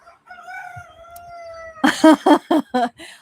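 Puppies howl indoors: a thin, wavering drawn-out howl first, then a string of four or five sharper, louder yelping bursts close by, with no talk over them.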